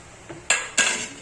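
A spoon scrapes and clinks against a pan while rava is stirred for upma over a low gas flame: a faint first touch, then two sharp, close metallic strokes in a row.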